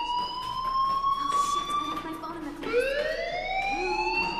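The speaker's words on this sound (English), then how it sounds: "Hey, do you hear that fire alarm?" A fire alarm rings in the video game Life is Strange Remastered: a loud, steady electronic wail that drops and climbs again partway through, with voices talking beneath it.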